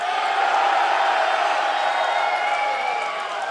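Loud arena crowd at an esports grand final roaring and cheering continuously, a dense sustained wall of voices and whoops with no single speaker standing out.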